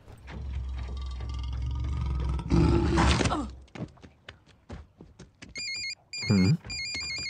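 A phone rings with a repeating electronic tone in short bursts, following a rush of noise and scattered knocks.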